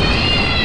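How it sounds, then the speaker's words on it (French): A short, brief meow from a cat in the video game Skyrim, sounding full and close over a dense layer of game background noise. "Merde, le chat."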